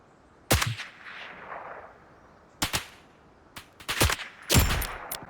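A sniper rifle fires in the Roblox shooter BRM5: four sharp, loud gunshot cracks, spaced irregularly, each followed by a short ringing tail, with no talk.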